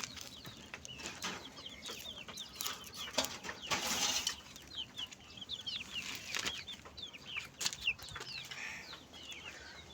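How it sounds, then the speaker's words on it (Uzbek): Turkeys cluck and chirp around a farmyard household, a steady scatter of short calls with brief wing flaps and shuffling, moderately close over a continuous rustling background. "mana kurkalarim"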